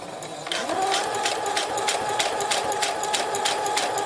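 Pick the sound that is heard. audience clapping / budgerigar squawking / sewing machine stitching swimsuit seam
sewing machine stitching swimsuit seam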